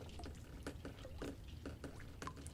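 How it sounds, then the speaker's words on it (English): Running water in the video game The Stanley Parable, a steady splashing flow with recurring gurgling surges, fairly close and continuous throughout, with no voices. "I'm hearing water."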